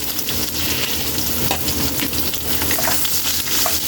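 Garlic sautés in hot oil in a wok, giving a steady, dense, loud sizzle with faint scrapes of stirring underneath, close up and without talk.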